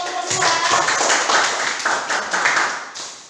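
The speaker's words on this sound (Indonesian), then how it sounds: "Tepuk tangan untuk kelompok" A classroom of students claps for a group after its presentation, a busy, crackling burst of many hands that swells and thins slightly, fairly close and continuous with no talk over it.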